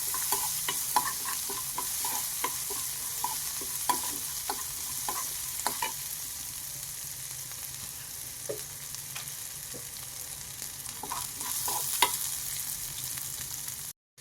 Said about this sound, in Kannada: ಬೆಳ್ಳುಳ್ಳಿ ಸ್ವಲ್ಪ ನಮಗೆಲ್ಲ ಚೆನ್ನಾಗಿ ರೋಸ್ಟ್ ಆಗಬೇಕು.